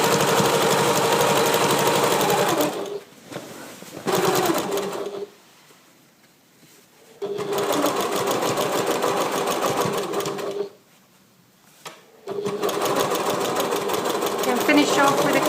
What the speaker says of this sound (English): Don't pull it through the machine, just guide it through and let the machine do all the